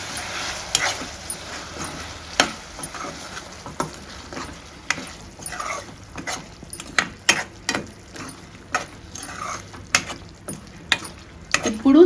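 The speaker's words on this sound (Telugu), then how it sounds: "మిరియాల పొడి వేసుకొని అంతా నీట్గా కలిపేసుకోవాలన్నమాట" A utensil stirs mutton fry with pepper powder and ghee in a pan, making irregular scraping clacks and taps over a faint background sizzle.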